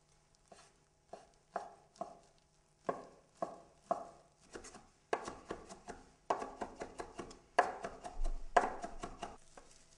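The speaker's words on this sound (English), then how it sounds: "I begin to chop up the mortadella into small pieces" Knife chopping mortadella slices rolled together on a cutting board, quiet close-up chops that begin sparse and irregular and then speed into a quicker, firmer rhythm, with no talk.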